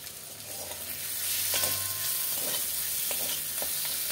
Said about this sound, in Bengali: ভালো করে মশলাগুলোকে কষাবো।